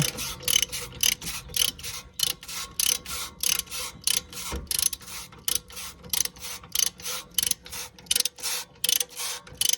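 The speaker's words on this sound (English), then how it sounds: "then you can tighten down that bolt" A ratchet tightens a bolt during a Lexus IS250 differential swap, clicking in steady, evenly spaced strokes for nearly ten seconds, close and crisp with no talk.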